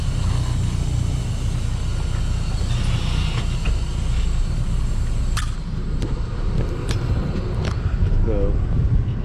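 An empty semi truck with a 13-speed transmission and an older trailer pulls away in third gear, its diesel engine droning steadily in the cab with rattles and clunks throughout.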